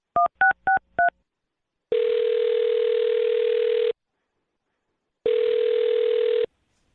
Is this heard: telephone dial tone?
yes